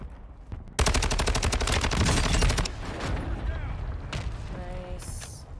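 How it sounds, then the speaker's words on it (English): Rapid automatic gunfire from a Kastov 545 rifle in Call of Duty, a long loud burst of evenly spaced shots, then quieter mechanical sounds and game effects. "More shooting down here."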